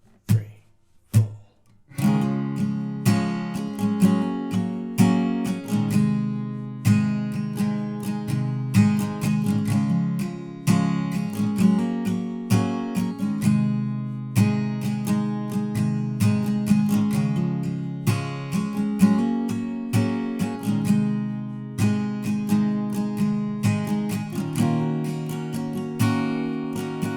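Strummed guitar chords in a steady rhythm, one strum after another, played alone and fairly close for nearly half a minute.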